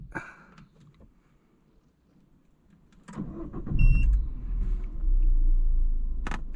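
A car engine cranks and catches after a quiet stretch with faint clicks, then settles into a steady low rumbling idle, with a brief sharp noise near the end.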